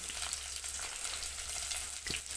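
Fenugreek seeds and sliced onion frying in a spoonful of hot coconut oil, a dense continuous crackling sizzle with a faint low hum beneath, close and even throughout without speech.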